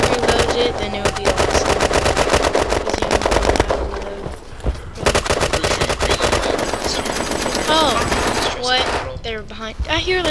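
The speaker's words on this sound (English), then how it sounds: "I hear like a chain gun." A chain gun fires rapid, sustained automatic bursts in the Red Crucible Firestorm video game, loud and continuous with other gunfire and game effects around it, and players talk over the shooting.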